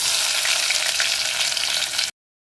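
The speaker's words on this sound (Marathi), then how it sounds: "कांदा तांबूस रंगाचा होईपर्यंत तेलात परतून घेऊया" Onion and garlic sauté in oil for a spinach and potato curry, a dense, loud, continuous sizzle heard up close that cuts abruptly to silence just before the end.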